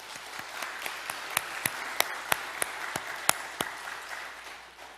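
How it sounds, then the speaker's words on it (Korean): Scattered, slow handclaps ring out one at a time in a reverberant church during a Sunday service as the congregation applauds in praise, a dozen or so distinct claps over a quiet hum, fading near the end. "우리 하나님께 영광과 감사의 박수"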